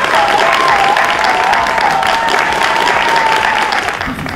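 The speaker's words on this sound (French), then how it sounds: "messieurs et dames, on applaudit très très très fort" A studio audience on a French TV show claps loudly and continuously, a dense roar of applause sustained throughout, with a held musical tone running underneath that fades near the end.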